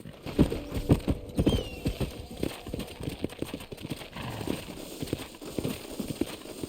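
Horse hooves clip-clop in Red Dead Redemption Remastered, a run of sharp, close hoofbeats in uneven rhythm over outdoor game ambience, with a brief whinny-like tone early on.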